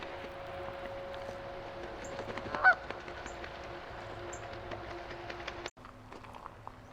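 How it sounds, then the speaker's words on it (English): Canada geese bathing on Lake George at Schooley's Mountain honk in scattered, distant calls over a faint steady engine hum, with no talking. "we've got a group of Canada geese bathing in Lake Gorge."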